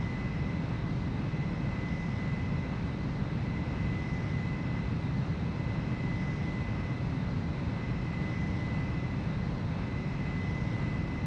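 Steady, dense engine roar of an aircraft in the video game Ace Combat 04, an unbroken drone holding a constant level with a faint high whine, no pauses or changes throughout.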